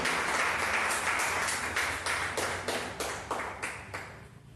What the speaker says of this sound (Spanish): démosle un gran aplauso